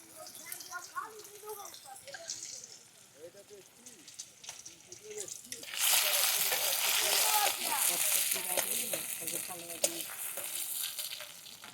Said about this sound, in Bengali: এই চাচি মাছের তেল দিয়ে মাছ ভাজবে